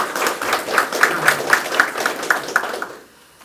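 An audience claps at an inauguration ceremony in a city hall meeting room, a rhythmic, fairly close round of applause in steady beats that stops abruptly near the end.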